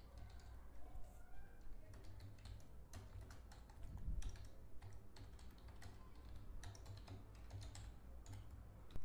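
Fingers tap quick, uneven runs of keys on a computer keyboard while a web chat interface is being coded, the close clicks in short bursts and pauses with faint background noise.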